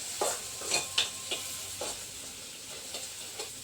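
Curry ingredients sautéing in a pan for a tapioca curry, with a steady sizzle broken by several sharp stirring scrapes and clinks of a spoon against the pan.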